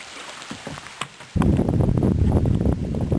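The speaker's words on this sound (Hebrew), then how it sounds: "בבוקר המחרת גשם מתחיל לרדת" Rain falls during a canoe trip on the Spanish River, beginning abruptly as a steady, dense hiss after a quiet, breezy stretch and continuing loudly to the end.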